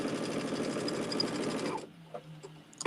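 A sewing machine runs steadily as fabric pieces are stitched together, a close, even mechanical whir for nearly two seconds that stops abruptly, followed by faint handling noises.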